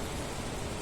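Rain falling in a village in Spiti, a dense, steady hiss of drops with no breaks, moderately loud and close.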